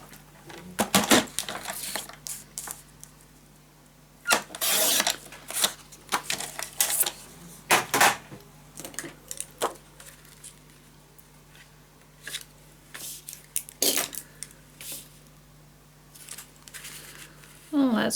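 Scissors snipping through a paper sheet for a scrapbook mini album, a series of short crisp cuts in irregular bursts, close and clear, with a light handling rustle between them.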